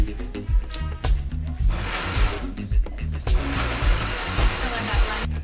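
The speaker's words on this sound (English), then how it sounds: "I'm going to put about half of this in the blender." A blender whirs through tomato juice in loud, uneven bursts with grinding, churning texture, the motor surging and dropping several times over a few seconds.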